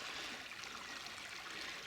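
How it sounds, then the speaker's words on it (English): Fast-flowing river water rushing through a narrow gap at Fawdington Bottom, a steady broadband wash and gurgle heard close and alone, without pause. "At this point the river narrows up, so you get quite fast flow here"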